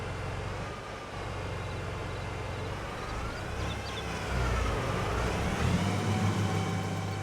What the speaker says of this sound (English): It does sound like a kind of like an RC car of some sort.